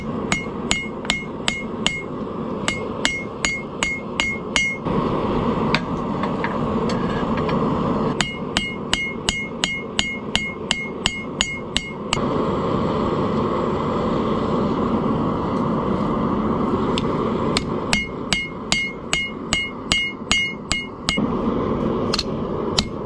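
A hammer strikes hot steel heated in a Cast Master CMF2000 propane forge, ringing out in rapid bursts of loud metallic blows separated by pauses, over the constant roar of the forge.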